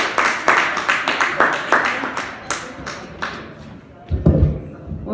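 Sparse applause for a comedian at a small cafe comedy night, a handful of people clapping in uneven bursts that thin out, then a voice begins near the end.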